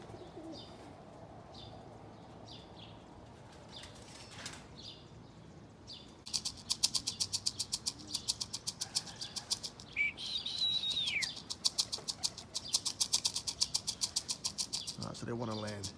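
A flock of pigeons circles and drops toward their landing spot in the morning, with soft coos and chirps, then a run of sharp, rapid wing-flapping bursts close by, plus a brief whistle mixed in.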